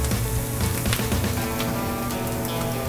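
Hot oil sizzling in a kitchen pan as dredged and sprinkled pieces start to brown, a steady dense crackle running throughout at close range with no talk.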